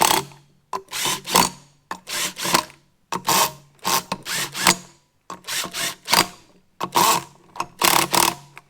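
A cordless power tool runs bolts down on a Harley Davidson Sportster motorcycle, giving a series of short whirring bursts, about a dozen in quick succession, each separated by a brief pause.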